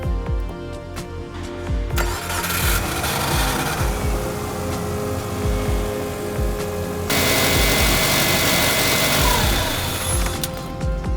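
A Subaru Impreza SOHC engine, just refitted with a new timing belt kit, is cranked and fires up. A few seconds of cranking lead into a loud, steady idle that holds to the end, with no talking.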